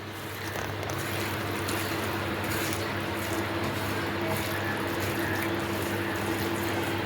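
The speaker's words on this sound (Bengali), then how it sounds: "এটা একটু ভালো করে আগে আমি মাখিয়ে নিই" Mutton liver being mixed by hand with turmeric and chilli, a steady wet squishing and slurping of coated meat, close and continuous, with no talk.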